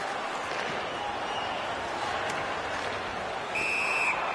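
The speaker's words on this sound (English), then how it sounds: "A whistle for an offside." Referee's whistle for an offside in the NHL 19 ice hockey video game: a short, loud, steady whistle tone near the end, over constant arena crowd noise.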